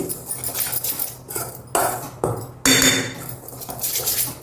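Close, bright clinks and scrapes of a spoon working maida flour, salt and turmeric together in a bowl, in irregular bursts with short pauses between strokes.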